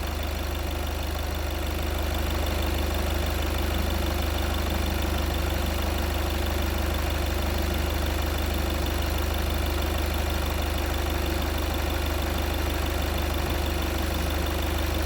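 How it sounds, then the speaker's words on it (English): A 2015 Volkswagen Passat 2.0 TDI diesel idles close by with a steady, even clatter and low hum, unbroken and loud throughout, with no one speaking. "as you saw, the engine has started immediately"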